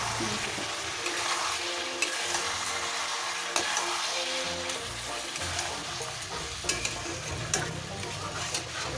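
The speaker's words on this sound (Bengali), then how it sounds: "এখন দেখুন ভালো করে আমরা কষিয়ে রান্নাটা করছি" Chicken sautéing in a pan as it is stirred, a continuous close sizzle with scraping and clinking of the spoon against the pan throughout, no voices.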